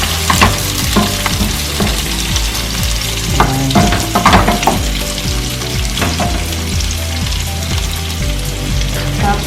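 Pork for pork steak frying in a pan and being stirred, a loud close sizzle with frequent scraping and clattering of a spatula, steady throughout with no talking.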